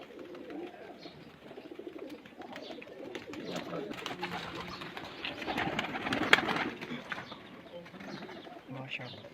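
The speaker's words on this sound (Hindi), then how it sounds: "कबूतर बहुत शानदार है माशाल्लाह।" Pigeons coo softly in the background amid a busy outdoor hubbub, with people talking over the birds throughout.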